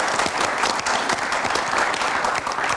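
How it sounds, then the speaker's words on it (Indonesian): Studio audience applauding Pak Maru on the Indonesian debate talk show Kontroversi, a dense, steady wash of many clapping hands filling the room for about three seconds with no voices. "Kita tepuk tangan untuk Pak Maru."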